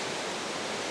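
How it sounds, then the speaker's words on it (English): Water rushes by along a trail around a house, a dense, loud, steady roar like a stream or small waterfall, heard up close and alone without voices. "water rushing by that is so soothing."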